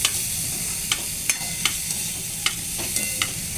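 Spices for dal crackling and frying in hot oil in a home kitchen, a steady close sizzle broken by several sharp pops and spatters, with no talk.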